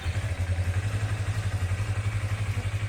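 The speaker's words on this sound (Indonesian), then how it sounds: "harus motor harus nyala" Yamaha MT25 motorcycle engine idling close by, a loud steady low rumble with an even pulsing beat throughout and no voices over it.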